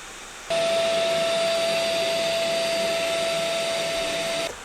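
Cooling fans in an MSI GL65 Leopard laptop spin up to high speed, switching on abruptly into a loud, steady whooshing roar with a constant whine, then cutting off just before the end.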